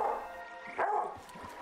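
A dog's woof sounds in a video game puzzle area, a single short bark standing out briefly over a steady tonal game background, with no talking.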